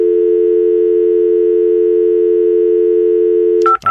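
A steady telephone dial tone hums loud and unbroken for several seconds, then gives way to a couple of brief higher electronic tones at the end, with no talking.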